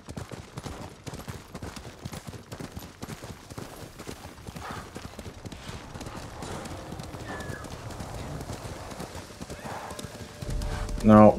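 In the Ghost of Tsushima video game, a horse gallops with a rapid, steady clip-clop of hooves throughout, close and continuous, with faint whinnying and scattered game effects underneath.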